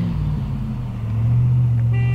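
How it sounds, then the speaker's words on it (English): A car horn blares from traffic on a road near a cyclist who has stepped off the bike because of dogs, a steady low honk rising to a sustained tone over engine rumble, fairly close and loud. "Notice the angry man honking at me."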